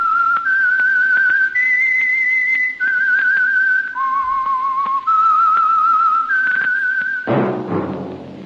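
A lone person whistles the slow theme of The Whistler radio show, a sustained melody of long held notes, clear and close, ending with a brief burst of noise.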